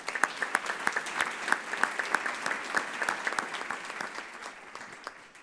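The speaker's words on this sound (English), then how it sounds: "Let's give them a round of applause." An audience at a Columbus Metropolitan Club forum claps for event sponsors, distinct individual claps in a fairly close, steady round that slowly thins toward the end.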